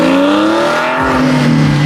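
A Ferrari LaFerrari supercar at a car meet revs its engine as it pulls away, a loud, close, rising and falling engine note over about two seconds with no talk over it.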